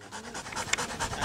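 A mine detection dog pants in short, rhythmic breaths, close and fairly quiet, with a brief sharp sound partway through.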